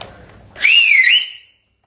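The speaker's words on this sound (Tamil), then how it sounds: "அந்த மாதிரி விசில் அடிங்கன்னு கேட்கறாங்க." A loud, piercing human whistle, shrill and sustained for about a second with a slight upward bend, blasted close to the microphone in celebration; it stands alone after a brief murmur of background sound.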